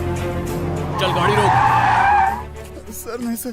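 A car skids hard in a dubbed South Indian action movie, tires squealing loudly for about a second over a rumbling engine and background score, with a voice briefly heard.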